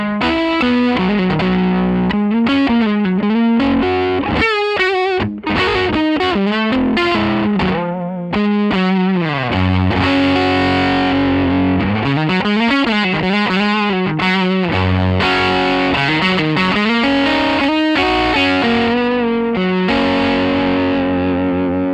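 A distorted PRS Tremonti Signature electric guitar on the neck pickup plays a continuous riff-driven passage through an amplifier, warm and thick in tone, loud and unbroken for over twenty seconds.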